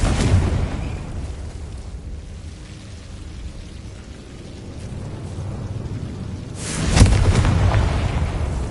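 Confringo explosion spell cast in Hogwarts Legacy, a loud booming blast with rumble at the start, fading into a low roar, then a second sharp burst near the end.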